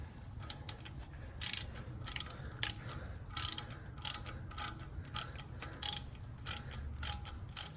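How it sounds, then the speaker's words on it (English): Ratchet on a 15mm socket tightening oil pan bolts on a Fiat 500 Abarth, giving bursts of quick, crisp clicking in repeated short strokes over a low background hum, with no talk. "And you just take a 15mm socket"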